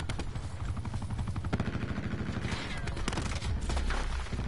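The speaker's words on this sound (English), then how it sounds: "And they have an attack chopper." An attack helicopter in a first-person shooter video game amid continuous rapid gunfire and explosions, a dense, loud barrage of shots with the rotor's rumble underneath.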